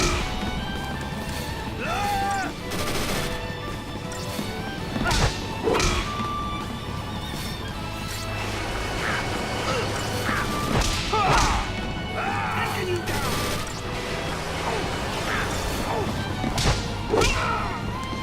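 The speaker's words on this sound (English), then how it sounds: "See what a hand grenade does." A hand grenade explodes in battle in the video game Final Fantasy XIII, giving loud crashing, thudding impacts and whooshes over dense game music and effects, with several sharp hits spread through the stretch.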